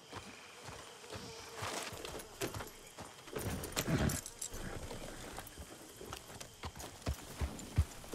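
Horse hooves clip-clopping in Red Dead Redemption 2, a steady walking rhythm of distinct hoof strikes with jingling tack, heard alongside speech.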